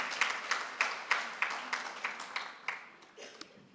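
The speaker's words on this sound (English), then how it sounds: "Let's clap hands for the District Director." An audience at an education event applauds the District Director with rhythmic group clapping, steady beats about every third of a second, moderately distant and fading slightly toward the end.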